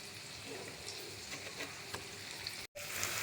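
Finely chopped onion and garlic frying in hot oil, a steady close sizzle and crackle that runs on alone, with one brief dropout near the end.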